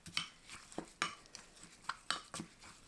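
Sauce of soy sauce, soup soy sauce, plum syrup, sesame oil, water, sesame seeds, cheongyang chili and chopped scallions being stirred in a bowl: quiet, close clinks and scrapes of a spoon in an irregular rhythm, with no talking.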